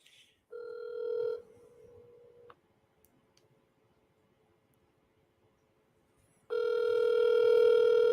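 Outgoing telephone call heard from the caller's end: a ringback tone plays for about two seconds, then near silence follows before a louder, sustained tone returns near the end, with no talk over it.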